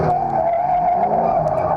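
Car tires on worn, roughly four-year-old tires skid continuously while drifting, a loud steady squeal over engine drone, close and without talk.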